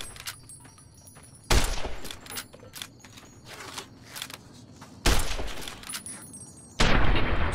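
Gunfire from a gun in Fallout: New Vegas comes in three loud, harsh bursts, each lasting about half a second to a second, separated by quieter game ambience.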